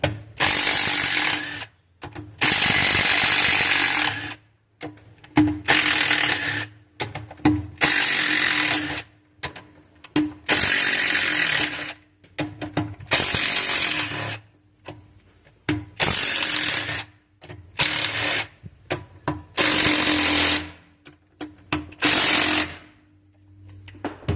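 Power tool or ratchet loosening ten 13 mm bolts from the sump of a Briggs and Stratton engine, in a run of loud repeated bursts of a few seconds each separated by short pauses, up close with no speech.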